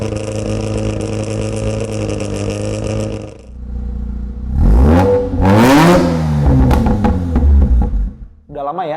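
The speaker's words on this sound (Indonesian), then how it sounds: "dengerin suara mesin RX-7 sama RX-8." Mazda RX-7 and RX-8 rotary engines, first a steady buzzing idle, then sharp rising revs and blips in loud bursts close by, with a short pause between.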